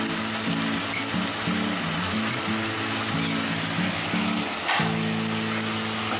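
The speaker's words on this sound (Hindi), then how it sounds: "टमाटो सॉस है जो 1 कटोरी लिए हैं वो पूरा इसमें डाल देंगे" Tomato sauce poured into a hot pan for arbi chilli Manchurian, a loud, dense sizzling hiss that fills the whole clip, with tonal background music running underneath.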